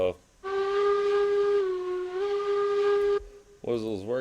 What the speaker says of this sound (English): Whistle's working.